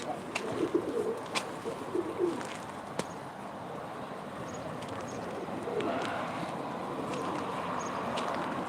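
Soft, low cooing of pigeons at a live pigeon auction repeats over a steady outdoor background hiss, with a few faint chirps scattered through.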